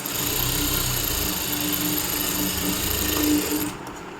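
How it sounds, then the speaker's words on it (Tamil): Sewing machine stitching blouse pieces together, a close, steady mechanical whirring with a rapid rhythmic needle patter running for nearly four seconds before it stops. "ரெண்டுத்தையும் ஜாயின் பண்ணியாச்சு. டர்ன் பண்ணி மேலே டாப் ஸ்டிச் போட்டுருக்கேன்."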